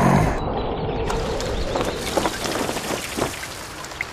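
Steady rain pattering on a surface in the 2001 PC game Winnie the Pooh Baby, dense and close, with occasional louder individual drops standing out over the constant hiss.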